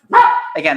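A pet dog barks briefly in a room, a couple of loud close yaps overlapping a person talking.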